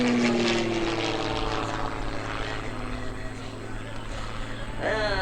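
Propeller aerobatic airplanes of a formation team fly past at an airshow, a loud droning engine sound whose pitch sweeps downward as they pass, with a second engine rising near the end.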